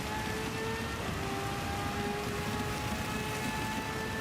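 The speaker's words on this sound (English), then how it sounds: "it's raining now" Steady rain hisses over a race car in Gran Turismo 7 during a Nations Cup round, with a faint high engine whine held underneath the constant wash.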